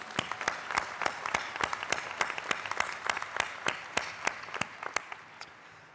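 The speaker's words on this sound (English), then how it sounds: "A round of applause for the performers," A graduation ceremony audience claps for dancers and performers, a sparse, distinct run of handclaps heard up close at a moderate level, gradually thinning and fading toward the end.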